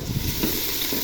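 Chopped onions frying in oil for khichuri, a brief steady sizzle and hiss at close range with faint stirring, no speech.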